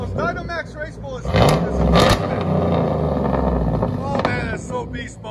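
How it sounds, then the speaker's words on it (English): A Chevy/GMC 6.0L LS V8 fitted with Dynamax race bullet exhaust and its resonator removed revs loudly with a deep, throaty roar that swells and holds, close by, while excited voices talk over it. "That's throaty right there. Yeah, those Dynamax race bullets."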